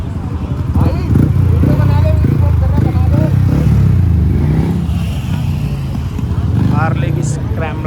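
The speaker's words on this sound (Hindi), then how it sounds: "हार्ले की स्क्रैम्बलर" A Harley-Davidson Scrambler motorcycle engine rumbles steadily and loudly on a rainy-day ride, with a low, continuous throb throughout under persistent talk from people nearby.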